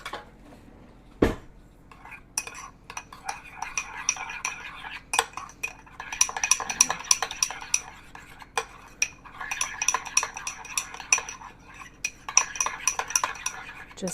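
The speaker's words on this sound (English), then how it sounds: "And then we're just going to mix this up" Utensils clatter and scrape against a bowl while tossing pepper-seasoned winter vegetables for roasting, a close, uneven run of clinks and stirring with several sharp knocks and no talk.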